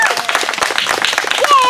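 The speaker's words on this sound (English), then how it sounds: "Let's give all the puppets a round of applause." An audience claps for the puppets at an open-air puppet show, a brisk patter of hand claps mixed with children's voices and chatter throughout.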